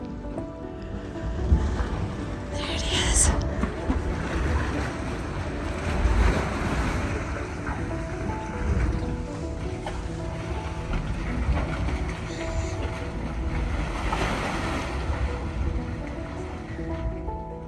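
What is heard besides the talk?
Dragon's Mouth Spring hot spring gurgling, Yellowstone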